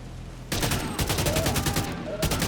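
Rapid gunfire bursts in The Division 2, a sudden loud volley of automatic shots breaking in after a quiet lull, with a short pause before the firing resumes close up.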